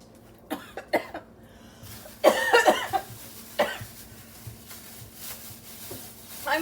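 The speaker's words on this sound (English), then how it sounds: "I'm coughing because it's spicy." Several sharp coughs and throat-clearing bursts from a cook making white chicken chili with chicken broth and lime, brought on by spicy food, spaced irregularly at close range.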